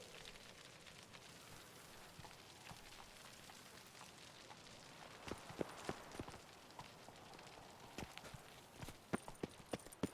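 Roach the horse galloping in The Witcher 3, a faint quick patter of hoofbeats on the ground beneath soft ambient noise, growing a little sharper toward the end.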